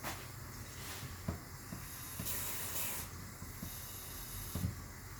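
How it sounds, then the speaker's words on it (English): Steady broadband hiss and bubbling rumble of water boiling in a cooking pot, close by, with occasional soft clinks and a louder steamy burst midway. "Because the water is already boiling"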